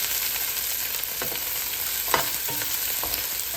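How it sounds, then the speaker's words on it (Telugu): Onion fries in a pan with curry leaves for a raw banana tamarind curry, a constant soft sizzle broken by occasional light stirring knocks, with no talking. "బాగా పచ్చి వాసన పోయేదాకా ఉల్లిపాయ వేగాలి"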